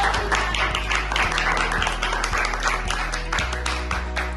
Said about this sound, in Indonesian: tepuk tangan dulu buat pausan dalam minat